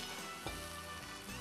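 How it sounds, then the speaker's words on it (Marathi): Beaten egg sizzles steadily on a hot griddle while an omelette is made, a soft, even hiss heard close up with no talking. "आता ह्या तव्यामध्ये आपण हे अंड घालायचंय"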